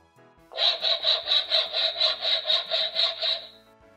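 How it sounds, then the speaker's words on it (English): A toy saw sound from a Melissa & Doug construction-tool sound puzzle: about a dozen quick, even back-and-forth rasping strokes of recorded wood sawing, loud and close, lasting roughly three seconds alone. "Saw."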